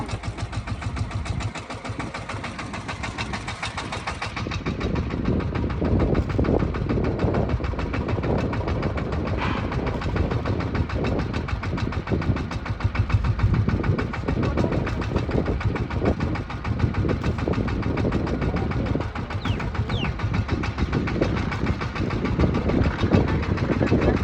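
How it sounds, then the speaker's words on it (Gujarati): A small tractor engine runs steadily while sowing a field, giving a loud, continuous, close rumble with a knocking diesel texture that holds throughout. "આપણું ઝીણકું ટ્રેક્ટર છે એમાં પાયર બાયર બધું કમ્પ્લીટ છે."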